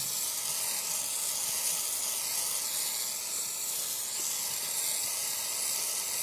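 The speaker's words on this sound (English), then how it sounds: "But we warm the metal, put the fire scoff on, warm the metal, do it again." Steady, loud sizzling hiss of metal being heated with Firescoff flux applied while making a Navajo-style ring, a constant dense fizz running unbroken throughout with no voices.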